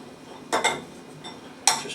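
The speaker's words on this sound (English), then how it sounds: "And then we'll just toss it a little bit." Salad with dehydrated cranberries on top being tossed in a bowl, giving two short bursts of clinking utensils and rustling leaves, close and fairly quiet, separated by a brief pause.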